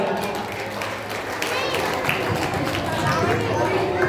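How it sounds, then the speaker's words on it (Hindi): Audience at a school Ramlila stage play applauding the character Sita: a steady, dense wash of clapping and crowd noise lasting throughout, fairly loud and continuous. "सीता जी पर एक बार जोरदार तालियां।"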